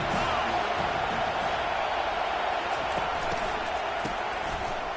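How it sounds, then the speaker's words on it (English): A stadium crowd at a college football game roars in a steady, dense wash of cheering and noise that holds at one loud level throughout, with no single voice standing out. "This crowd bringing the energy and noise early."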